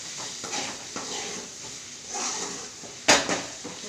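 Vatha powder (dried berry powder) being stirred in a pan, with soft scraping and shuffling, low hissing and one sharp metallic clank near the end, fairly quiet throughout.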